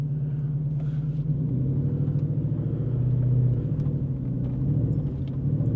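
A pickup truck engine runs steadily in a deep, continuous rumble heard from close by, rising slightly in the middle before settling back to a constant drone.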